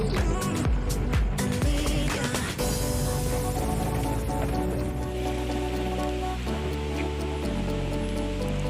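Heavy rain pours steadily in Mawlynong village, Meghalaya, a dense continuous hiss of drops striking surfaces, loud and close throughout with no voices.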